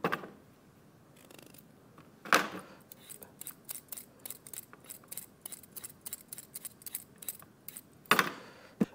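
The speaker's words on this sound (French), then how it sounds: "Donc on épluche dans un petit cabaret pour éviter de salir une planche de travail." Carrots being peeled over a small tray, giving a run of sharp, rapid scraping strokes close by, with a few louder rasps among quieter quick scrapes and no talk.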